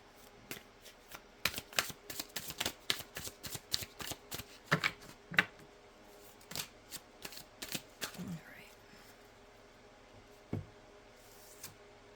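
Mystic Forest Oracle cards are shuffled close by in quick, irregular bursts of papery riffling and slapping, busy for several seconds and then thinning to a few isolated taps.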